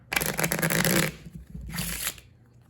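Two bursts of riffle shuffling, a long rapid flutter of cards followed by a shorter one, close up with a brief pause between.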